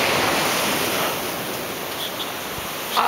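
Ocean waves wash up onto a beach at sunrise in a steady broadband surf roar, close and loud, swelling slightly near the end as water rushes in.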